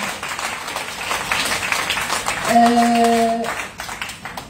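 Audience applause at an event, a moderate continuous patter of clapping that swells briefly while a sustained tone sounds, then fades near the end.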